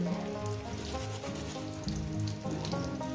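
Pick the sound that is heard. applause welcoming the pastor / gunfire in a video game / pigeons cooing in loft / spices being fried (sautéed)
spices being fried (sautéed)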